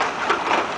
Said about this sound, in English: Whoa, look at the hail. Oh, the hail's huge.